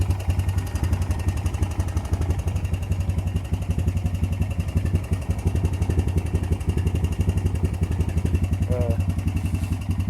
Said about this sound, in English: But it is a real good four-wheeler. It runs good.